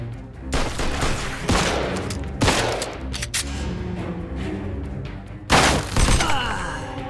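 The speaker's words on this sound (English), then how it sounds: "They're shooting from up top!" Rapid gunfire in the 1940s-era crime game Mafia II, several loud bursts of shots spaced a second or so apart, then a heavy volley near the end over constant combat din, with brief voices.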